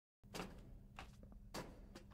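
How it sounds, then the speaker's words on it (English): A door creaks open in the game Poppy Playtime, two distinct squeaky swings about a second apart over a low steady hum. "Perfect squeaky doors."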